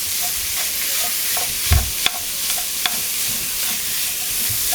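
Meat browns in a pot for Zuppa Toscana soup, a loud, close, constant sizzle with a few scraping stirs and light knocks of a utensil against the pot, no talking.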